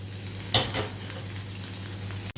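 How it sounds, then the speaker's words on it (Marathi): Coriander, garlic, peanuts and chilli sauté in hot oil in a pan with a steady close sizzle, marked by a couple of brief stirring clatters near the start. "तेलामध्ये ह्याला छानसं परतून घ्यायचं आहे"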